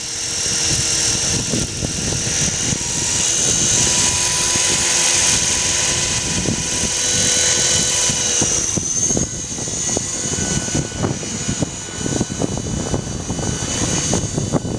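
Mini Cylon model helicopter engine whining loudly and steadily in governor mode, rising in pitch as it spins up, with buffeting wind noise in the latter half.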